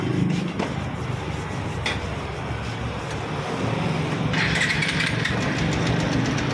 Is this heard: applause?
no